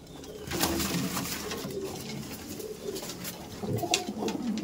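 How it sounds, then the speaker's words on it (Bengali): Abluk pigeons coo in a loft with soft, repeated, throaty coos and some wing rustling, close and fairly loud, continuing without pause. "এই সাইডে দেখুন আবলুক পায়রা"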